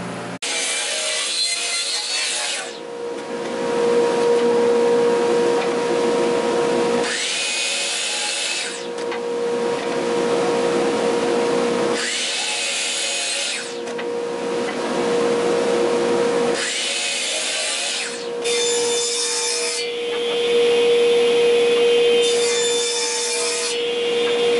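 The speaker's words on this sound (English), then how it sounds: "I am going to cut this and give me a nice 90, and then get all my widths and heights right here at the miter saw" A miter saw squares up wooden pieces in a woodshop, with about five loud, close cutting bursts, each a harsh rasping roar lasting a few seconds, separated by brief pauses under a constant motor whine.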